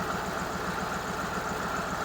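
A CUCV M715 fitted with a 6.2/6.5 diesel, warm and running low on fuel, idles steadily and close by with an even, rhythmic low knock, with no talking over it.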